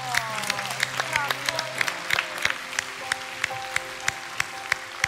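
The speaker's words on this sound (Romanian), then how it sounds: "Aplauze pentru ea." Scattered applause from a small group at a talent show bootcamp, individual claps irregular and sharp, with tonal music or voices sustained underneath.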